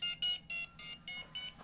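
Startup electronics on an ImpulseRC Apex DC FPV quadcopter with Fettec ESCs, Crossfire receiver and DJI air unit emit six short bright beeps in an even rhythm, close and clear with no talk.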